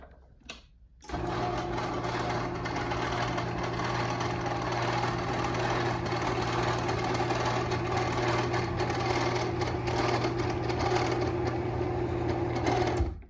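A Moore-O-Matic Ultra Lift running along its rail gives a steady mechanical motor hum with a buzzing whine that starts after a second and holds evenly for about twelve seconds before cutting off.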